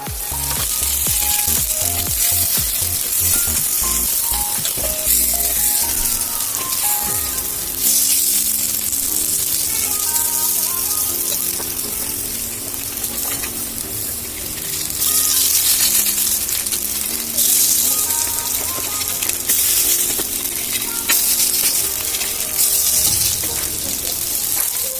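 Bamboo shoot pieces fry loudly in a pan, a constant bright sizzle over about twenty-five seconds, with softer tonal kitchen sounds in the background.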